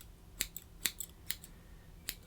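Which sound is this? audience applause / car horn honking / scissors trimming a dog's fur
scissors trimming a dog's fur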